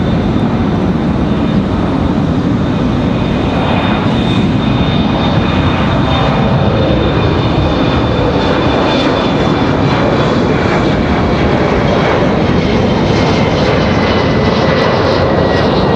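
An American Eagle regional jet taxiing at Raleigh-Durham airport, heard as a loud, constant engine roar with a steady high whine running underneath, close and unbroken throughout, with no voices.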